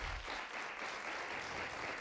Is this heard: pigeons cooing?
no